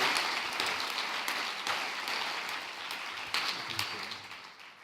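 An audience at the Lumières 2015 ceremony applauds, a dense, steady wash of many hands clapping in a large hall, loud and sustained through the whole stretch before slowly tapering.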